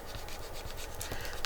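A bone folder presses and rubs across thick paper around a paper clip, giving a faint, continuous scratchy scraping with a few brief sharper strokes near the end.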